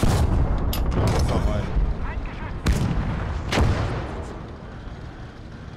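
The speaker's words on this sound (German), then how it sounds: "Achtung, feindliches Geschütz." Enemy artillery firing in the Gates of Hell video game, several sharp booming blasts spaced a second or so apart over continuous battlefield noise, with someone talking over it.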